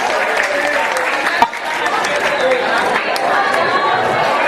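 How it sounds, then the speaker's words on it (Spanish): A community assembly of families in a hall breaks into steady applause mixed with crowd chatter, one sharp knock or bang standing out early, the clapping continuing at an even level throughout. "Un aplauso para ustedes, gracias."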